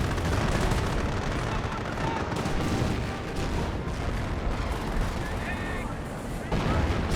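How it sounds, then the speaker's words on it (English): A sniper rifle fires during a Company of Heroes 1 replay match, its shots buried in constant battlefield din of gunfire and artillery with a commentator talking over it. "sniper firing away"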